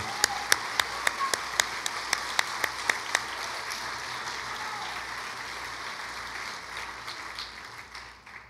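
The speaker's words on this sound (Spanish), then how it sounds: "Si ese aplauso es para el Señor, délo más duro" Church congregation applauding, with a rhythmic, evenly spaced clap standing out over a steady crowd patter early on before dissolving into diffuse, continuous clapping that carries to the end.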